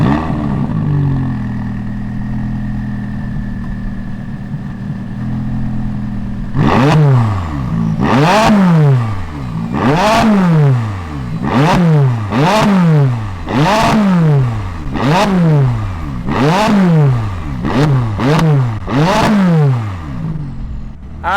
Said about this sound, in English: Let's fire up this 570S and hear what it sounds like.